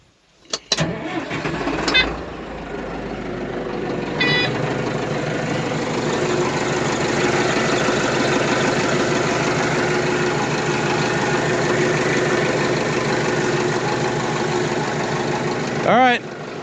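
A car engine jump-started with a jump box cranks briefly, catches and settles into a steady, loud idle that runs for over ten seconds, with short clunks at the start and near the end.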